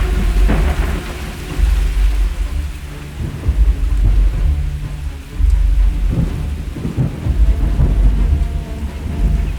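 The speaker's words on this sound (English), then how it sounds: "Torrential rain turns the ground to treacherous mud, stripping away the wildebeest's sprinting advantage." A heavy thunderstorm pours torrential rain, a dense continuous hiss of downpour with deep rumbling thunder rolling through it, loud and close throughout with no voices.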